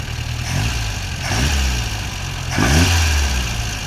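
A small car's engine, its throttle linkage newly hooked up, idles and then revs up in a few short bursts, rising and falling close by with no talking.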